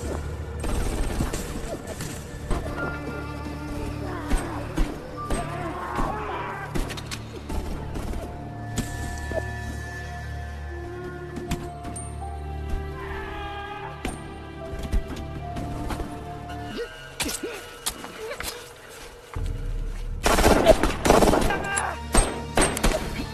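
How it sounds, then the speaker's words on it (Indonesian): Gunfire in a war film battle scene between student fighters and trained soldiers, with scattered bursts of shots, clanks and impacts amid music and effects, varying in loudness and ending in a louder burst. "Baku tembak pun sudah tidak dapat terhindarkan."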